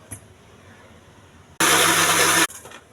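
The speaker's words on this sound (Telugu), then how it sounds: "మిక్సీ వేసుకోవాలండి, వాటర్ ఏమి వేయొద్దు." A kitchen mixer grinder blends pomegranate seeds with no added water, roaring loudly in a single burst of just under a second before cutting off into quiet.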